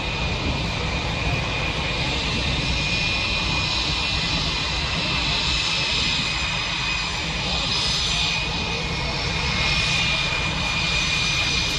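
Blue Angels jet aircraft engine at NAS Pensacola, a constant loud whining roar from a jet taxiing on the taxiway, steady and unbroken throughout, with faint crowd voices beneath.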